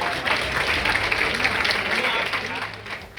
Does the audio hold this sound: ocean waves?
no